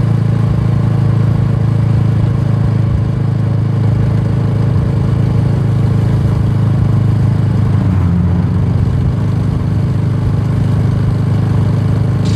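Kawasaki Meguro S1 (W230) motorcycle exhaust running steadily, a loud, continuous low engine rumble close by with a brief change in tone partway through, and no voices.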